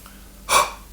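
A single short, sharp breath is drawn in, loud and close, while playing a didgeridoo, amid quiet surroundings.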